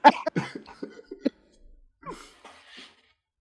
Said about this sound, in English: that made me laugh so hard I started having a coughing fit